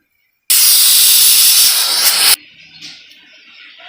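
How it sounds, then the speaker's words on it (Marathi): A pressure cooker cooking a chandan batwa leafy vegetable dish whistles, a loud steady hiss of steam for about two seconds, then stops abruptly, leaving quiet background noise. "एक कुकरला दोन शिट्ट्या घेणार आहोत"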